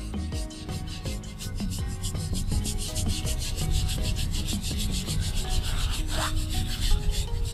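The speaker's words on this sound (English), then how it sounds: "Sometimes I like to use a rubbing technique." Hands rub rhythmically over skin during a Thai massage for sciatica, a steady series of soft, dry swishing strokes repeating quickly and close up, with no talking over it.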